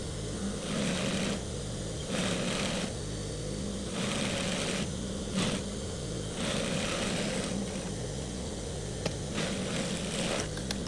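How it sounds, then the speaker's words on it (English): A sewing machine stitches down a belt for a simple cowl neck top, running in steady mechanical bursts of a few seconds each, separated by short pauses, at a moderate, close level with no talking. "So I'm going to go to my machine now and show you guys how I'm going to stitch this down."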